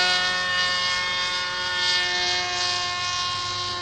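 Nitroplanes Kangaroo LS 46 model airplane on its maiden flight, a steady high-pitched engine drone holding at a fairly constant pitch and swelling slightly as it passes.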